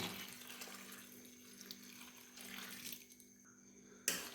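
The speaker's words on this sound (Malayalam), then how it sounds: "നന്നായിട്ട് ഇങ്ങനെ ഒലച്ചൊലച്ച് കഴുകണം." Water runs from a tap and sloshes while dried prawns are rinsed and rubbed by hand in a bowl, a steady faint wash of splashing with a brief louder clink near the end.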